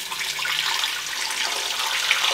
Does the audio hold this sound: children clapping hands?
no